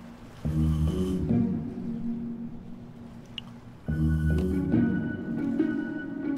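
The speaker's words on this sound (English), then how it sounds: "Even his snore makes him sound like a know-it-all." A video game character in Minecraft Story Mode snores in two long, loud, nasal breaths separated by a short pause, with a faint background tone underneath.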